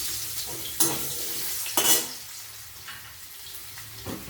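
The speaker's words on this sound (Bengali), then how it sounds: "সেই আলুটা আমি একটু ভেজে নেব" Potatoes fry in oil in a pan for Bengali shol fish kalia, a soft steady sizzle punctuated by a couple of sharp utensil scrapes and stirs, close and fairly quiet.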